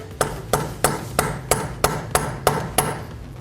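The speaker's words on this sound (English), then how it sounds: "take a punch that fits in there or any other tool that you might have and give it a few taps" Hammer tapping a punch against the ridge of a car axle nut on a 2012-2017 Toyota Camry, nine sharp metallic taps at an even, steady rhythm, close and clear with no talk.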